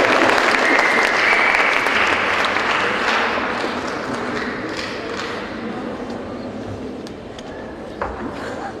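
An audience in a hall breaks into sustained applause, dense and loud clapping that fades slowly over about nine seconds.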